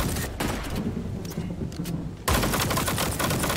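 Weapon fire in a space combat video game, a dense continuous barrage of rapid shots that jumps louder partway through and keeps blasting with no talk.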